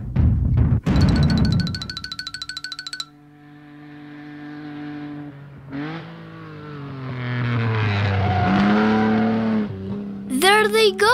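Cartoon cars racing past in an animated children's read-aloud of Go, Dog. Go!, engines revving and whooshing loudly over about eleven seconds, with musical tones, a sharp skid and a springy boing near the end.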